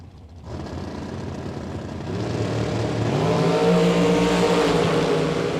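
Drag race cars, including a Race Tech prepared Shorty, launch off the starting line at a bracket race, engines revving up loud and close and building into a sustained roar with rising pitch.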